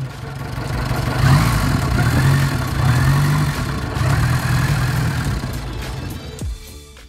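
An Ariel Square Four motorcycle engine (square four-cylinder, two crankshafts) runs with a deep, throbbing idle and a few revs rising and falling, close by, before cutting off near the end.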